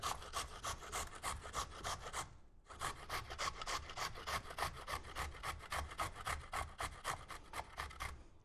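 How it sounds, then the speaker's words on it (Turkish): Rhythmic rasping of a hand grater working steadily for a muhallebili kadayif cake, fast repeated scraping strokes close up with a brief pause near the two-second mark, then continuous grating to the end. "Yavaş yavaş rendelemeye başlıyoruz."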